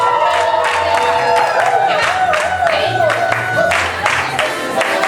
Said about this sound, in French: Des cris de joie, des acclamations pour Jésus.